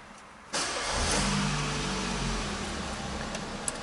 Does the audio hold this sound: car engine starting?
yes